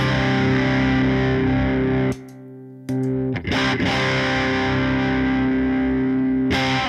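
An inexpensive Temu overdrive pedal set to low peak mode gives an electric guitar a thick, distorted sustained chord tone, loud and close, with a short dip and a few choppy strums midway.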